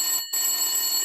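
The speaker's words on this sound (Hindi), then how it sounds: "एक दिन पिंकी के घर पर फोन की घंटी घनघनाई" A cartoon-style telephone bell rings in two rapid, bright metallic trills with a brief gap between them, loud and alone.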